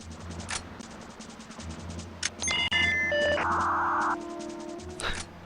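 Covert modem connecting to a computer in the video game The World is Not Enough: ticking clicks, then a dial-up sequence of beeps, warbling tones and a burst of hissing static handshake, ending in a short chirp.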